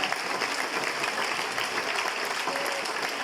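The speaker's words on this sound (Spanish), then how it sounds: "Bríndale un aplauso a Él, porque Él es digno de la alabanza" A church congregation applauds during a Spanish-language worship service, a steady, dense wash of clapping from many hands that holds evenly throughout, with no voices standing out above it.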